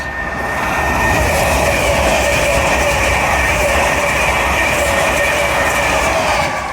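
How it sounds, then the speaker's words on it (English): An LNER Azuma express from Edinburgh to London King's Cross runs through Doncaster station on the East Coast Main Line, a loud, steady rush of wheels and rail noise with a faint high whine, sustained close by throughout. "Pass through now is an LNER Azuma from Edinburgh to London King's Cross."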